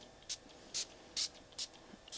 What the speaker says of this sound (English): I've got a little spray bottle here, and I'm just going to spray a little bit of water